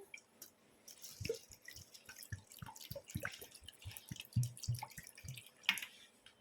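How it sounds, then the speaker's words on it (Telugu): Water splashes and drips irregularly as toor dal is rinsed in a vessel, a close series of small wet knocks and trickles. "ఒక గ్లాస్ కందిపప్పును తీసుకొని శుభ్రంగా రెండుసార్లు కడిగేసుకుందాము నీళ్ళు పోసి"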